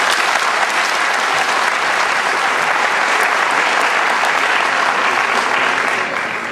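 An audience applauds an invited minister at a lecture hall event, with loud, steady, dense clapping that continues without a break and tapers slightly at the end.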